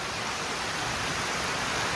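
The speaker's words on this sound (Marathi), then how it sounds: "अरे बघा इकडे किती पाऊस पडतोय." Heavy rain pours down steadily in a dense, loud, unbroken hiss with no talking.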